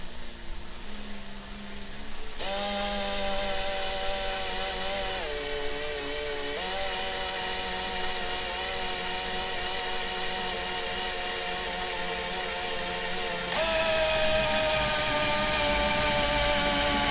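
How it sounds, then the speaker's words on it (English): Power drill boring a hole in a Rover P5B door, a loud steady motor whine with its pitch dipping under load, a brief pause partway, then a higher-pitched run near the end. "That drill's rubbish."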